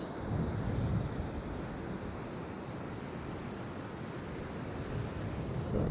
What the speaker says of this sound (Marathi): हा फुल गोल्डन बीच वाटतोय आणि याच्यामध्ये स्वच्छता पण आहे, क्लीन आहे.